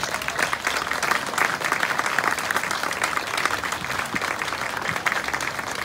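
A jazz concert audience gives a pianist sustained, dense applause, steady and fairly loud throughout, with no voices over it.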